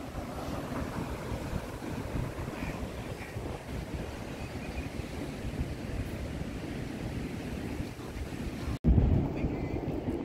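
Sea waves wash in front of a beach resort at Srivardhan, Maharashtra, a soft, steady roar mixed with wind buffeting the microphone, fairly faint and continuous, with a brief bump near the end.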